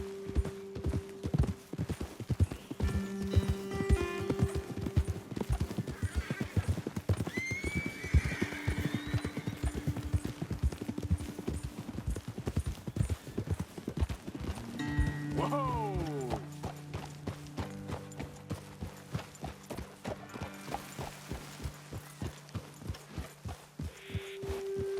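Rapid, regular hoofbeats of galloping horses in the video game Red Dead Redemption 2 pound throughout, joined by a whinny and tonal music-like hums, with brief voices in the background.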